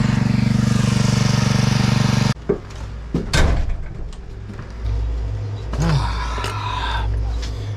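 A Husqvarna pressure washer engine runs with a strange noise seemingly coming from its frame, a loud steady drone that cuts off abruptly, followed by rattling knocks and a lower, rougher idle hum close by.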